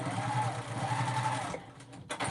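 Sewing machine stitching fabric for a small zippered pouch, a steady mechanical whir running for about one and a half seconds before stopping, then a brief final burst.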